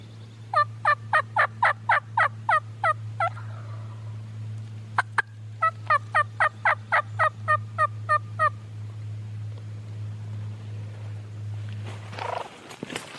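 Wild turkey gobbles in two rapid rattling series, moderately close, with hens nearby and a low steady hum running underneath.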